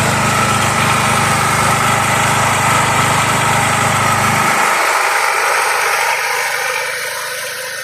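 A Stager FD10000ER backup power generator runs with a steady, loud engine drone; partway through, its deep low rumble drops away while a lighter whirring continues as it runs on to cool down.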